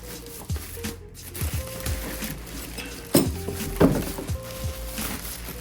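Metal tools from an unboxed Losi Promoto 1/4-scale motorcycle kit clink and clatter as they are handled, giving scattered light knocks and a few sharper taps close by.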